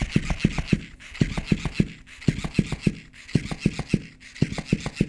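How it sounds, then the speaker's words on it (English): A motorised toy flops in repeated bursts of rapid thumping and rubbing, about a second each, separated by brief pauses, close and fairly quiet. "the lobster does give off a bit of noise when it starts flopping"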